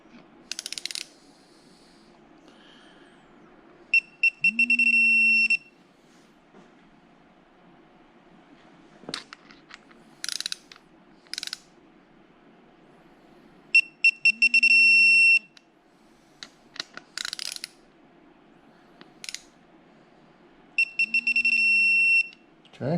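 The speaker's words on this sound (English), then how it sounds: "Once we hear the solid tone of the torque wrench, we've got it." An electronic torque wrench gives three sustained multi-tone beeps, spaced evenly as bolts on an engine long block for a 2009 Hemi 1500 are tightened, with ratchet clicks and low workshop hum between them.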